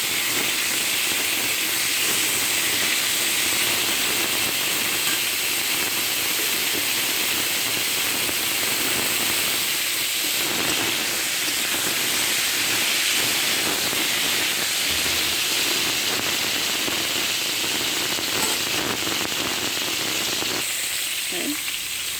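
Pointed gourd frying in oil with salt gives a loud, continuous hiss and sizzle with occasional stirring, close up and unbroken throughout, with no one speaking.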